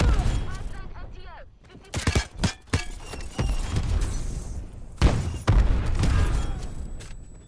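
Bursts of gunfire in a Call of Duty Search and Destroy match, several sharp volleys and rapid shots spread across the clip, loud and close, with voices talking in between.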